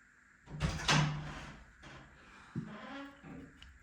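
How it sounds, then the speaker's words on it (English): A door is pushed open by a cat during airsoft gun upgrade work, giving a short knock and creak followed by a second softer bump, heard close by in a quiet room with no talk. "Amazing, the cat opened the door."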